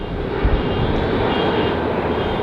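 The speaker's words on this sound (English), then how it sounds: "next to land is November 620 UX coming in from Boise. 4-year-old ERJ." A four-year-old Embraer ERJ regional jet arriving from Boise lands at LAX, a steady broadband engine roar heard from a distance, with no voices.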